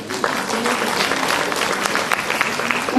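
Audience applause at a state nursing association conference hall as a speaker is welcomed to the stage, steady clapping from a crowd with a voice speaking over it.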